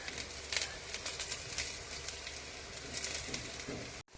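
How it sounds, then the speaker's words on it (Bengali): Gandal leaf fritters (chop) frying in hot oil give a steady crackling patter that carries on for several seconds, with brief brighter pops now and then, and stop abruptly right at the end. "এই গাঁদাল পাতার চপ ভাজা হচ্ছে।"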